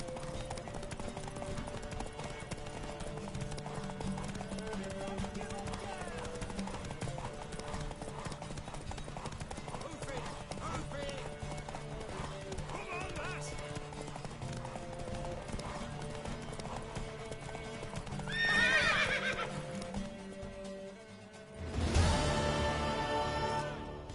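Horse hooves clip-clop steadily and continuously during a horse race in The Witcher video game, ending with a couple of louder bursts that may be brief neighs.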